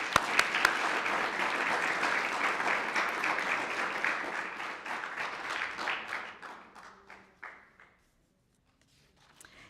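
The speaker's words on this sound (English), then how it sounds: "let's give her a big round of applause." Audience applause at a school district board meeting, a dense patter of many hands clapping that holds steady for several seconds, then thins to scattered claps and fades out near the end.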